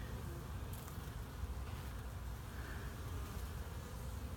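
Honey bees swarm around a hive frame full of nectar and honey, making a dense, continuous close buzz that holds steady throughout with no voices.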